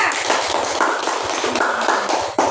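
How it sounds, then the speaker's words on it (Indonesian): A class of students applauds in a classroom, a dense, steady patter of clapping that carries on for the whole stretch. "Oke, kasih aplaus juga."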